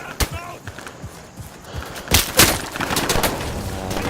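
Machine gun fire in the WWII shooter Day of Infamy: several sharp, loud bursts and scattered shots crack over a rumbling battlefield background, with no talking.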